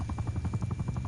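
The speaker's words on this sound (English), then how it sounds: "I've got my helicopter out." Attack helicopter in a PS4 video game giving a steady, fast rotor thump, loud and close, with no talk over it.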